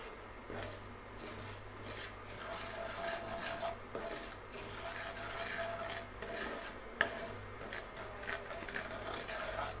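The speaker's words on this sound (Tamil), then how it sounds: "ரவை நல்லா நெய்யில் லேசாக வறுத்து எடுத்துட்டோம்" Semolina (rava) roasting in ghee in a pan for rava kichadi, a steady dry scraping and rasping as a spoon stirs and drags the grains around, with occasional clinks against the metal.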